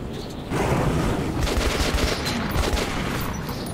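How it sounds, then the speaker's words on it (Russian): Enemies in Metro 2033 Redux open fire from all sides: after a quiet half-second, a dense, continuous barrage of loud gunfire rattles on without pause. "Суки со всех сторон стреляют."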